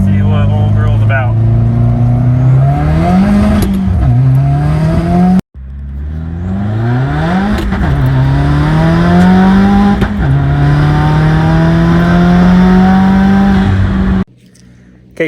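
A Subaru WRX with an FA20 engine accelerates hard on a snowy country road, its loud engine rising through several gears with brief pauses at each shift, and someone speaking over it.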